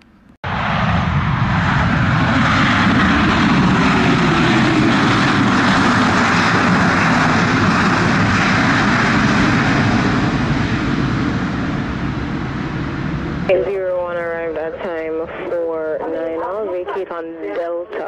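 A JetBlue jet airliner's engines roar loud and steady in a sustained rush during a runway departure at Montego Bay, Jamaica, in rain, then fade as radio talk from air traffic control takes over.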